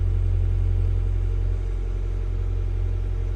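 A large excavator shovel's engine gives a steady, heavy low rumble as the machine slews on its fine swing setting, with a slight drop in level partway through and no talking.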